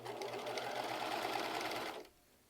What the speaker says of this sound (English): That's understitching.